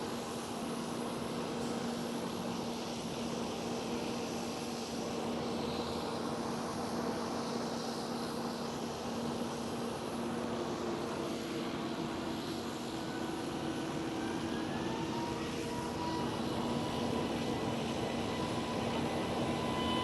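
KLM Airbus A321neo jet at Amsterdam Schiphol, a steady distant engine roar with a low sustained hum, heard from an airport terrace without voices.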